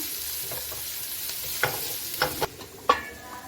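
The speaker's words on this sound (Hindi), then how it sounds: "इनको लाइट गोल्डन होने तक मीडियम फ्लेम पर हम फ्राई करते हैं" Something frying on a medium flame until light golden as a noodle dish is prepared, with a soft sizzle under a few sharp stirring clinks and scrapes, close and without speech.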